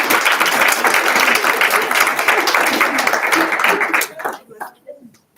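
Loud, dense applause from a government social media summit audience for a speaker, sustained for about four seconds, then thinning into a few scattered final claps.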